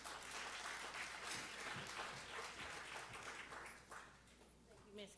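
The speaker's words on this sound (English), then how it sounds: "So give her a round of applause." Congregation applauding during a church service, a dense spread of clapping that holds steady for about four seconds and then thins and tapers, with a few scattered voices underneath.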